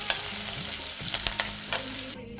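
Cumin, ground green chili paste and curry leaves fry in hot oil with a steady, close, crackling sizzle and spluttering pops, then cut off abruptly at the end.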